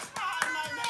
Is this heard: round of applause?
yes